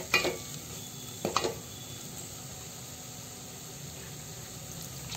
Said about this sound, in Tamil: சிக்கன் போட்டுடலாம்.